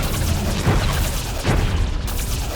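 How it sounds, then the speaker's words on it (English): Torpedoes exploding underwater in the video game Song of the Deep, a dense rumbling wash of booms with two heavier blasts rising out of a continuous loud low roar. "Eat my torpedoes!"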